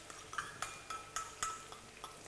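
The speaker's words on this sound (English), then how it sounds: "So my oil is already hot. I'll just add my onions." Onions in hot oil being stirred in a pan, a faint sizzle under a series of light, irregular scrapes and taps of a utensil against the pan.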